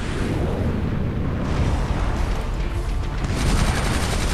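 Weapons fire nonstop in the Iron Man video game, a loud, dense roar of blasts and booming explosions with no gaps and no voices over it.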